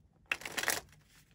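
Tarot cards being shuffled, one brief, faint riffle of papery flutters that fades quickly into a quiet room.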